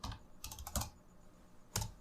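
Computer keyboard typing during a Windows disk-management partition task, heard as a few short separate bursts of key clicks with pauses between them, close and fairly quiet, with no voices.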